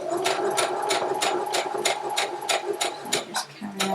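A sewing machine stitches quilt fabric along a bias edge. It gives a steady, close, rhythmic needle thump at an even pace that slows and stops near the end.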